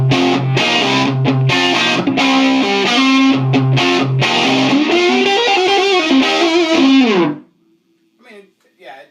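Electric guitar through a Marshall 1974X amp with the gain at 8, loud distorted chords and riffs played close for about seven seconds before cutting off to near silence.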